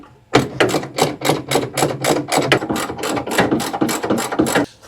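A ratchet clicks rapidly in a steady run of about fifteen loud, close strokes as the radiator bolts are tightened on either side of a 50-year-old Volvo 164E during a coolant system refresh.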